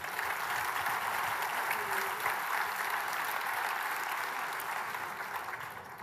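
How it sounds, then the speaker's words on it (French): Keynote audience at Agile Grenoble 2024 applauding themselves in a large hall, a dense, steady wash of clapping that holds at even strength for the whole stretch and eases slightly at the end. "vous pouvez vous applaudir, elle était énorme"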